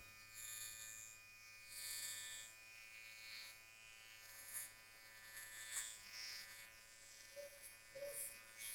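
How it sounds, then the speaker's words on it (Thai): A Xiaomi Uniblade trimmer dry-shaves skin with a faint, continuous electric buzz broken by soft scraping bursts as it is drawn across the face in short strokes. "ข้อดีคือมันโกนแห้งได้ไง เนี่ย เราก็แค่โกนเข้าไปนะครับ"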